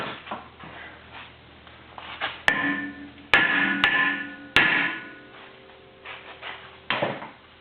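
Several sharp metallic hammer strikes on a brake rotor of a 2012 Jeep Liberty, each ringing out with a lingering tone, spaced irregularly with quieter clinks and shuffling between them.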